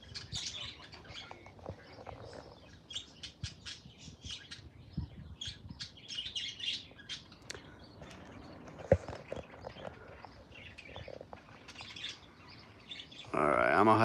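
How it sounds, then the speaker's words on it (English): Pet parakeets chirp and twitter in short, scattered bursts with soft rustling and pattering between calls, fairly quiet and close, with a louder noise at the very end. "relaxing sounds with birds and stuff like that. So this is my lovely parakeets."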